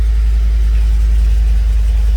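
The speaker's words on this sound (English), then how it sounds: "Truck starts and runs." 2013 Ford F150 pickup engine running steadily at idle, a loud close low rumble with no voices.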